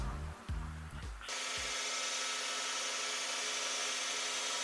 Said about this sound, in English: I need to put it in the rotary table on the mill and drill 6